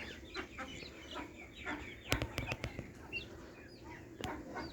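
Village chickens, hens with a rooster and young chicks, cluck and call in short bursts over a faint outdoor background, with a few sharp clicks and brief wing flaps mixed in.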